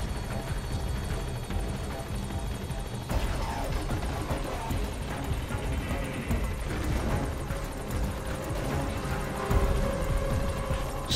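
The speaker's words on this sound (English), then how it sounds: "All right, the chopper's touching down." A helicopter in Metal Gear Solid V thrums steadily as it descends and settles, loud and close, with engine hum and rumbling game sound effects throughout.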